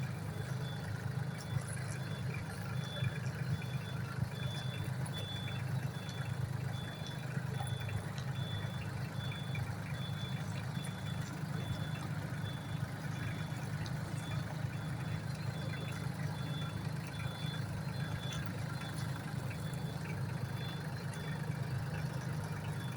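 A Solis 26 tractor's small engine runs steadily in third gear reverse at a low, droning pitch throughout, with a faint repeating high beep layered on top, no talking.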